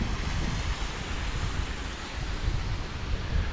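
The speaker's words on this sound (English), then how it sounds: "this is the Dathlan waterfall" A low-flowing waterfall among rocks at Dain Thlen near Cherrapunji, heard as a steady, broad rushing wash of water with no talk over it.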